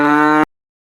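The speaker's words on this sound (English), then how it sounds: "This is a cow." A single loud, close cow moo, a sustained tonal low call lasting under half a second before cutting off sharply into silence.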